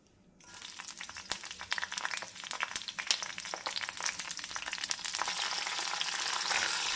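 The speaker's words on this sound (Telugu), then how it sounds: "ఒక బాండి పెట్టుకొని కొంచెం ఆయిల్ వేసేసుకోవాలండి. దీని తర్వాత మనం పచ్చిమిరపకాయలు వేసుకోవాలి." Green chillies dropped into hot oil in a kadai, bursting into a sharp crackling sizzle that builds from quiet to a dense, steady fry, close by with popping spatters and no voices.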